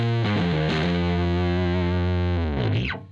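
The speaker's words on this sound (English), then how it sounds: "the best way to do it in my opinion is to use a fuzz" An electric bass played through a fuzz pedal holds a thick, buzzing sustained note, loud and saturated, then bends sharply before cutting off at the end.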